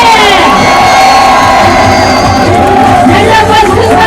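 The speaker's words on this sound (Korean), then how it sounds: "다시 한번 큰 박수와 함성이 지금 필요합니다" A large crowd at a presidential campaign rally at COEX in Gangnam roars and cheers loudly and continuously, with shouts and whoops layered over a dense wall of voices.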